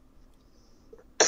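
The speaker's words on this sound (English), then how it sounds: "No, you have to stop coughing." A single sharp, loud cough bursts out at the very end after near silence, heard during a co-op session of the game Arma 3 while boarding a helicopter.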